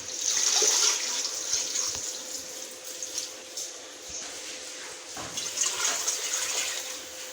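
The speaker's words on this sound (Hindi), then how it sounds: "अब इसमें पानी डालूंगी।" Water pours steadily into a cooking pot holding mutton paaya with onion and garlic-ginger paste, a continuous close splashing rush for several seconds with no talk.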